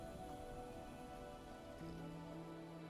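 Rain falls in the Nine Sols video game as a quiet, steady hiss of drops, with a faint tonal hum in the background and no talking.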